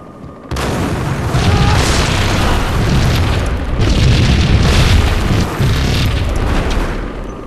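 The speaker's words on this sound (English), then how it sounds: "needs to throw the grenade" Grenade explosion in a video game, a loud, sudden boom that erupts within the first second and rumbles on as a sustained roar for several seconds.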